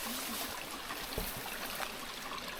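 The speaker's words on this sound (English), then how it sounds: "Got a river running straight through beside the campsite." A river running beside a campsite in Litchfield National Park rushes steadily, a soft continuous wash of flowing water with a couple of brief low bumps and no talking.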